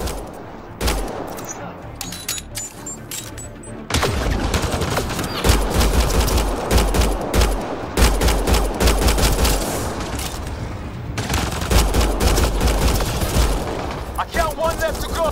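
Bursts of automatic gunfire and single shots crack out in a firefight in the video game Mass Effect Andromeda, loud and close, in several clusters with shouted voices between.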